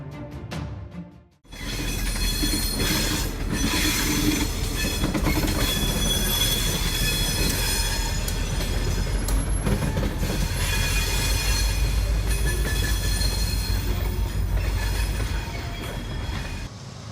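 A tram in Volgograd, Russia roars in close and collides with a car crossing the tracks, a sustained loud grinding rumble with squealing wheels and a crashing impact, continuing for several seconds before fading slightly, with no talk.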